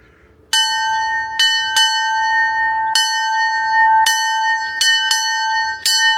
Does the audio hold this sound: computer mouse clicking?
no